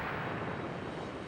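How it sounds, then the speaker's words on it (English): Military planes fly low overhead, a loud, dense, continuous engine roar that fills the short moment without a break and with no voices. "The planes fly low, avoiding radar."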